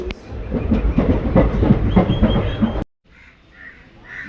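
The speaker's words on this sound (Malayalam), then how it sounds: "ഇത് വെസ്റ്റ് കോസ്റ്റ് എക്സ്പ്രസ് ആണ്" The West Coast Express near Coimbatore railway station rolls past close by with loud, rhythmic clickety-clack of wagons on the rails, then cuts off abruptly to quiet ambience with faint bird calls.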